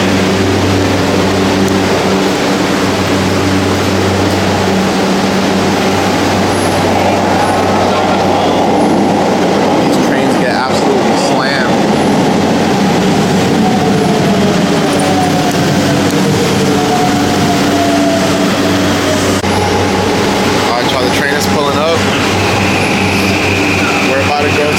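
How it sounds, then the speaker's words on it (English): Loud, continuous rumble of a train to Shinagawa in Japan running on rails, with wheel squeals and rattling throughout and occasional voices beneath. "we're getting on the train to Shinagawa"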